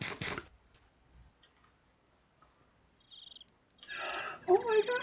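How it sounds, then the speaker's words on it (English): Crickets chirp in the Minecraft modpack Life In The Woods: short, bright, pulsing trills come in a few close bursts after a quiet stretch, preceded by a brief rustling thud. "Oh my gosh, and there's crickets!"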